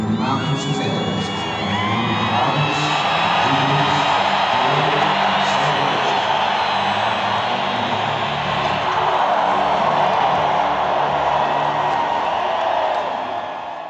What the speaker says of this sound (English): Smile, stand, cheer, and let your voices ring from the mountains and valleys.